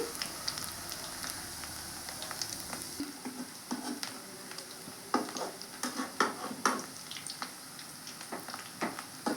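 Dried fish pakodi fry in hot oil over a medium flame, a soft continuous crackle and sizzle with scattered sharper pops and spits throughout.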